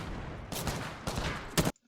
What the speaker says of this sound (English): And I hear gunshots here.